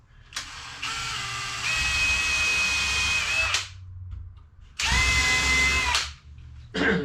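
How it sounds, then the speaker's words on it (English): A power drill whirs in two loud bursts while pre-drilling holes, speeding up mid-run, with a short spin at the end and quiet gaps between. "even though I'm pre-drilling the corners or the holes"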